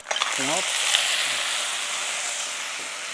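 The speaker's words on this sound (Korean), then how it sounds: "아까 준비한 마늘을 노릇노릇하게 구워주는 거죠" Garlic and peperoncino fry in a pan with a steady, bright sizzle and hiss that runs throughout. A short voiced sound comes near the start.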